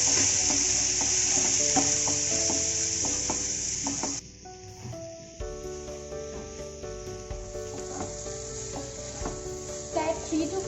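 Finely chopped tomatoes frying on a hot tawa, a bright steady sizzle with spatula scrapes and taps that come again and again; the hiss drops sharply partway through and then carries on quieter under the stirring.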